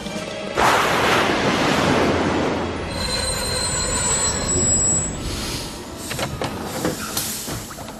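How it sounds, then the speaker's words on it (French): A metro train starting to move, its wheels squealing with a loud, sustained high whine over a heavy rumbling roar, close by and continuous. "Quelqu'un a mis la rame en marche."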